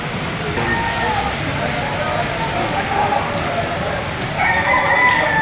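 Roosters crow over a busy outdoor chicken market in Padre Garcia, Batangas, on a stormy morning. Several clear crows rise above a steady wash of crowd and ambient noise, with a louder, closer crow near the end.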